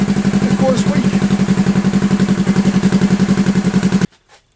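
A hard-tail bobber motorcycle, a Triumph-based build on carburettors rejetted for K&N filters and running lean, revs close by in a steady, pulsing rhythm, loud and continuous for about four seconds before cutting off abruptly.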